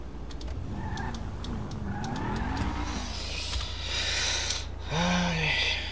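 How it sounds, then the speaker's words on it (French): A car drifting in GTA role-play, with engine revving and gliding tire squeals rising and falling, then a sharper squeal near the end over a steady low engine drone. "Vous faites du drift, monsieur."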